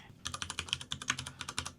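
Keys clack on a computer keyboard while using an Amiga desktop, a quick uneven run of about fifteen crisp, faint taps close to the microphone.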